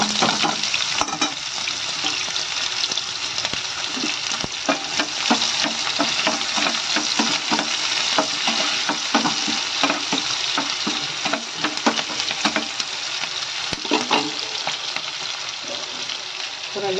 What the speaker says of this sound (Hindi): उसमें ये दो कटी हुई प्याज डाल रही हूँ।